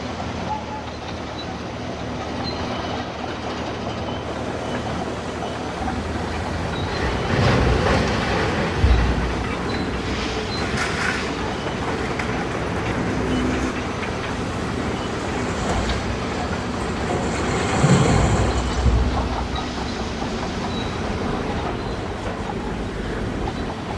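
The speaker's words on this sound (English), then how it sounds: "Now we can watch as the loader gets to work." Hornby Sentinel model shunting locomotive and a loader working at a model scrap metal yard, heard as a steady low mechanical rumble with two brief louder swells of clanking, close and continuous with no talk.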